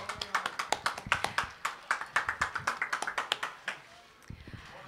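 Scattered, fairly sparse clapping from a small audience at a village grape festival plaque presentation, distinct individual claps in a loose rhythm that thins out and stops near the end, heard at a moderate distance.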